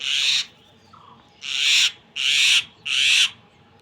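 A mynah bird calls four times in short, harsh bursts, loud and close, with brief pauses between each call and a quiet background.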